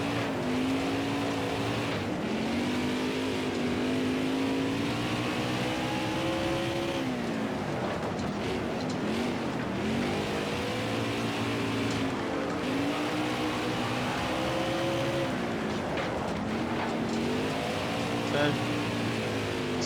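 A NASCAR race car on a dirt track in NASCAR Heat 5 drones loudly and steadily, its engine pitch wavering and stuttering against the rev limiter, with a voice talking over it throughout.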